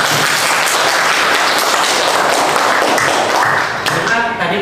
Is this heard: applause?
yes